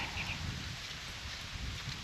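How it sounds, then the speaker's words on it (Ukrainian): Steady wind blows across a Kherson marsh, a continuous broadband rush with slight rustling and mic buffeting, moderately quiet and unbroken. "але вітер дме."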